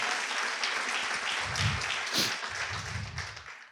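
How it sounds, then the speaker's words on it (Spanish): A church congregation at a sermon applauding loudly for the Lord, sustained dense clapping throughout with a few heavier low thumps mixed in, fading slightly at the end. "Aplauda fuerte al Señor"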